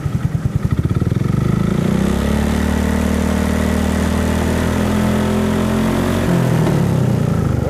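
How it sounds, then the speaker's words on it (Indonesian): A modified exhaust on a Honda Vario motorcycle idles steadily and close by, a low even engine rumble that holds for several seconds after a short uneven start. "Knalpot. Ini kondisi langsam nih teman-teman."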